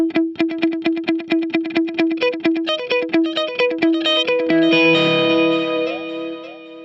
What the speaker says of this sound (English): I also have a, of course, U2-ish kind of delay here.